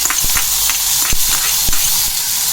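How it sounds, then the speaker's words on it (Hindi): Chopped green, red and yellow bell peppers frying in a tablespoon of hot butter, giving a steady close hiss with a few sharp crackles and pops scattered through it. "इन तीनों को भूनेंगे।"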